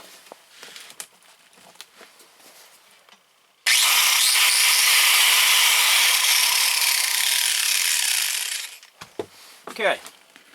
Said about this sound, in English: Now you guys just seen that my grinder works, right?